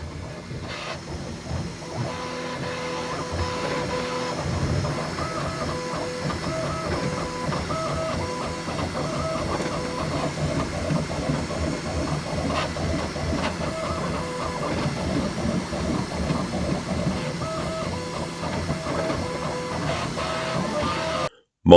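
A Bambu Lab X1 Carbon 3D printer hums and whirs steadily, its motors stepping in repeating patterned tones, with no talking.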